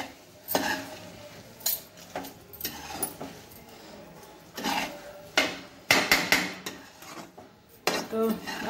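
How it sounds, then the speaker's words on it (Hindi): Sugar being stirred into carrot halwa in a metal pan, with irregular clanking and scraping of a spoon against the pan in bursts between quieter gaps, close and fairly quiet with no talk. "चीनी डाल के मिक्स कर लूंगी"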